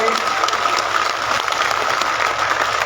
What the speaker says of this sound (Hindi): इनका एक बार करतल ध्वनि से आप जोरदार तालियों से स्वागत सम्मान करें